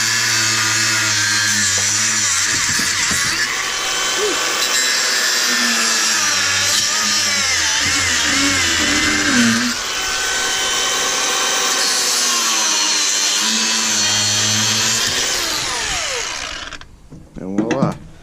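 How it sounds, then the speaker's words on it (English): A handheld angle grinder cuts away part of a steering column during a 2008-10 column swap into a 1999-07 dash, whining loud and steady for about sixteen seconds with pitch shifts as the disc bites, then stopping abruptly. "the best way to do that is with the handy grinder. So what I do is I just come in right here and just snip away"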